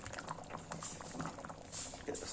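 A spicy puri sabji simmers in a pan just after raw onion goes in, giving a soft, steady bubbling and light patter that continues quietly throughout.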